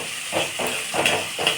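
Garlic added to a hot pan for lemon pickle, close sizzling and hissing in repeated surges as it is stirred and mixed.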